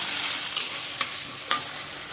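Cluster beans and potatoes frying in oil, a bright close sizzle with three sharp scrapes of a spatula spaced about half a second apart.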